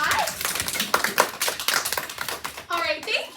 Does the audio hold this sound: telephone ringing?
no